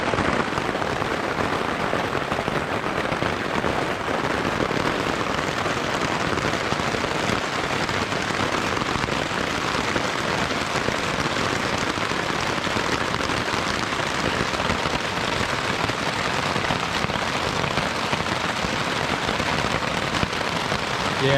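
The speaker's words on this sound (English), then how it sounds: "So we'll see if this rainstorm hits." Steady rain falls on a backpacking campsite in a dense, even patter that continues without pause, fairly close and loud, with no voices.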